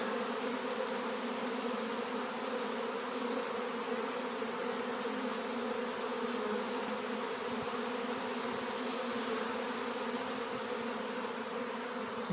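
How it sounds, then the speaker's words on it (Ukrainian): A honeybee swarm hums steadily around a swarm trap, a dense and continuous buzz of many bees close up that holds at the same level throughout, with no voices. "Так, грій прививається до цієї ловушки."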